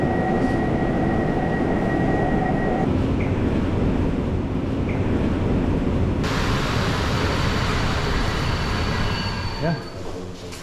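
Steady rumble of a PKP Intercity combo car on the IC Rybak service from Szczecin Dabie to Gdansk Oliwa, heard from inside as a continuous dense roar with a faint tonal whine, tapering slightly at the end.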